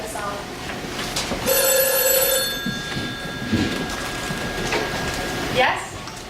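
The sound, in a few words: telephone ringing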